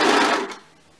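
A sewing machine stitches fabric for an insulin pump armband in a short, loud whirring burst that quickly winds down and stops.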